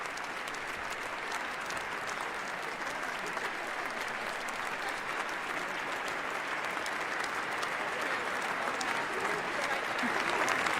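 A large crowd applauds continuously while awaiting the president's speech on inauguration day, January 20, 2025, a dense steady wash of clapping heard from a distance.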